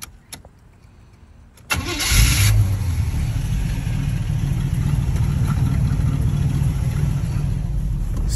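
A car engine cranks and catches after a quiet moment, then settles into a steady close idle with a brief initial rev, running loud and even until the end.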